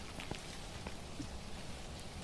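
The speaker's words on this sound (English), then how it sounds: "This rain sounds a little bit different." Steady, soft rain falls in the ghost-hunting video game Phasmophobia, a faint, even patter of drops with a few sharper taps and no voices.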